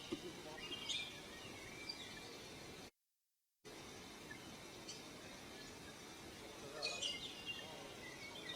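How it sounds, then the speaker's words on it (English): Birds calling in Tasmanian rainforest along the Franklin River: scattered chirps and short whistled calls, faint to moderate, over a soft steady background hiss, with a brief gap of silence partway through. "listening to the calls of the birds"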